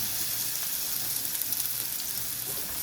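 Patties frying in oil in a frying pan, a steady close hiss and sizzle with fine crackling throughout, no talk.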